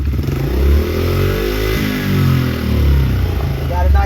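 Small engine with the choke off, just revived with Power Foam carburetor cleaner, idles smoothly in a loud, steady, close-up rumble with slight waves in level, while a person talks over it.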